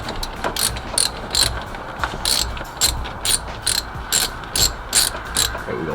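Ratchet wrench clicking as it loosens a single bolt on the power wire of a Chevrolet Caprice, about a dozen short, sharp ratcheting bursts in a steady back-and-forth rhythm, close and clear.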